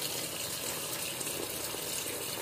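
Tap water runs in a steady, full gush while wild giác fruit is rinsed under it, an unbroken rushing splash with no speech over it.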